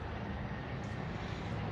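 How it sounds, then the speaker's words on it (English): A plane passing overhead produces a steady, broadband roar of jet or engine noise that fills the quiet room, constant and fairly loud, with no talking. "we have another plane come over"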